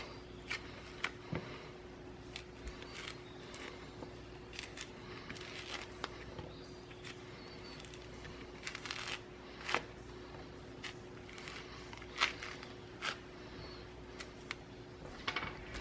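Kitchen peeler scraping and cutting along produce, a series of quick crisp strokes and faint clicks, close and quiet with no speech.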